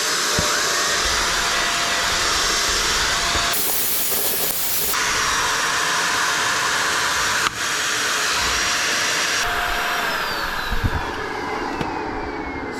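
A Shark DuoClean UV810 vacuum cleaner running on a dirty rug gives a steady loud hissing roar with shifting airflow pitch and brief louder surges, close and continuous with no talk.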